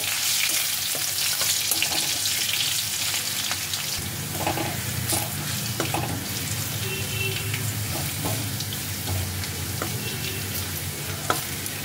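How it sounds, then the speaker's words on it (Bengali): Four to five cloves of crushed garlic sizzle and fry steadily in hot oil in a home kitchen, with a few soft stirring clicks over the constant crackle. "রসুনটাকে তেলে একটু সাঁতলে নিতে হবে।"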